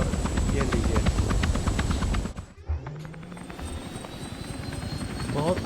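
A helicopter in the video game Hitman gives a loud, continuous rotor-and-engine drone that dips briefly in the middle before resuming steadily.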